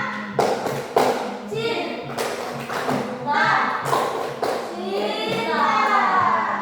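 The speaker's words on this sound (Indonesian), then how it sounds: "kita kasih tepuk cinta" A classroom group performs a rhythmic clapping chant, sharp hand claps in patterned bursts mixed with children's chanting voices, loud and close in a lively room.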